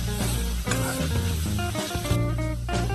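Green chillies and tomato sizzling with salt in a pan for okra pickle, a steady close frying hiss with faint stirring clatter throughout.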